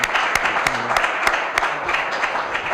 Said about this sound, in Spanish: pido un aplauso para nuestro invitado de hoy